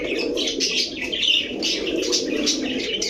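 Pigeons of Lalpatti, Budapest, Rampuri and Beauty breeds coo continuously and close by, with soft chirps and a brief wing flutter mixed in.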